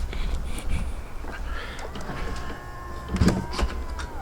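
A Tesla door opens with a soft electric motor whir and rising mechanical tone, followed by a faint hum of coolant fluid beginning to flush through the car's system, close by and without talk.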